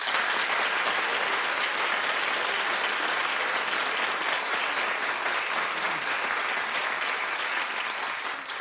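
A television talk show studio audience claps in a thick, steady wave of applause that holds evenly for several seconds before tapering slightly at the end.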